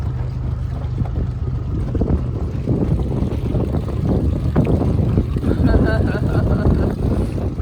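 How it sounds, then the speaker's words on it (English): A new dinghy travels across water at night, its engine or hull noise a steady low rumble mixed with wind buffeting the microphone, running close and continuous throughout. "Traveling in our new dinghy at night for the first time."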